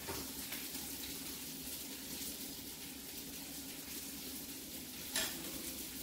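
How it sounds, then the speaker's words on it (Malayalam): Mustard seeds fry in hot oil for a yogurt curry tempering, giving a steady, faint, close hiss with light crackle throughout and no talking. "ഇതിനെ കടുവും കൂടെ വറുത്ത് കൊടുത്തേച്ചാൽ മതിയാവും"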